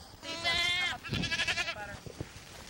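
Goats and sheep on a farm bleat close by, with a long bleat followed by a wavering call and several shorter fainter bleats trailing off.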